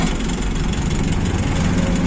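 Scooter and motorbike engines idling and revving together in a dense traffic jam, a loud, continuous mix of low rumble and buzzing exhaust close by.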